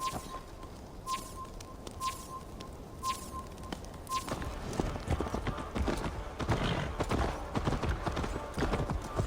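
Rhythmic horse hooves clip-clopping steadily in Assassin's Creed Valhalla, close and clear, with a faint repeating chime early on and a soft whinny.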